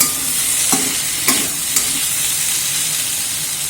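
Ivy gourd frying in a pan for a Chettinad-style masala, a loud steady sizzle and hiss with a few scraping stirs of a spatula, close up and without talk.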